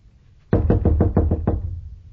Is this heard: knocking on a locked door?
yes